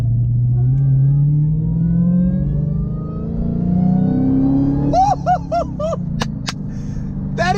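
A supercharged Dodge Hellcat widebody engine roars and revs with a steady low drone, then a high rising supercharger whine and several sharp surges climb over it near the end.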